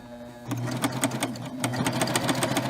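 A Baby Lock serger starts up and stitches fabric on a leader, a steady close mechanical whir with rapid rhythmic ticking that holds at an even loud level.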